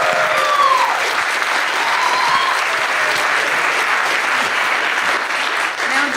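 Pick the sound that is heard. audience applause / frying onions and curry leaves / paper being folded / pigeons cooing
audience applause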